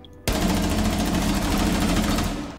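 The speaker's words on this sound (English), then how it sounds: "This is what the gunfire sounds like with night mode on." Rapid automatic gunfire in a video game with the night mode audio setting on, a dense continuous burst starting abruptly and holding steady for over two seconds, compressed and fairly even in loudness.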